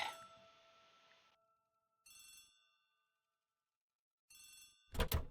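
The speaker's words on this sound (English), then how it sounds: "The telephone in the hall is ringing." An old-style telephone rings in a hallway of a mystery game setting: a sustained bell ring, then two shorter rings after pauses, closing with a sharp louder clatter, all fairly clear with no talking.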